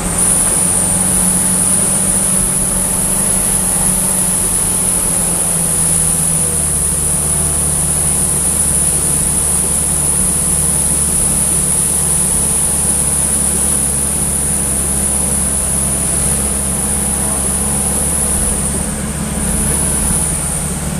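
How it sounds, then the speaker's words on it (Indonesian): A car engine labors steadily up a steep hill on a dirt road, heard from inside the cabin as a loud, continuous low drone with a faint high whine running throughout. "Kalau dari dalam mobil itu nggak nampak tanjakannya, cuman suara mesinnya aja itu yang dengar"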